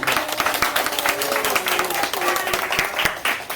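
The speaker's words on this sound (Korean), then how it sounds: "서로 격려의 박수 한번 했으면 좋겠습니다" A church congregation at a family retreat evening service claps together in encouragement, a dense run of many hands with sharp transients throughout, with voices mixed in beneath the clapping.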